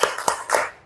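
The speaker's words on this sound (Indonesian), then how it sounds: "Oke, tepuk keren." A class of fourth-grade pupils claps the 'tepuk keren' routine, three sharp, quick claps in a short burst at moderate volume.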